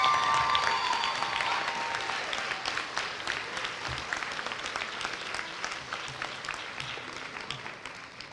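Audience applause for a whole class standing at the Park Avenue Elementary moving-up ceremony, full clapping from a crowd that slowly thins out over about eight seconds.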